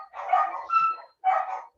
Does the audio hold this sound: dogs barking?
yes